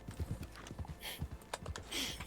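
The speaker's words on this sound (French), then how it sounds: "t'as 4 bruits de sabot, enfin 3, mais attends avec 2, voire 1" A horse in the video game Red Dead Online trots with an uneven, rapid clip-clop of hooves, each step a short, close knock in a quick irregular rhythm.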